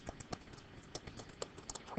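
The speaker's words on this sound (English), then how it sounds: "I can go to my calculator at this point, and I'm going to type in negative" A calculator's keys are tapped in a quick, uneven series of light clicks, close and fairly quiet, while a person talks over them.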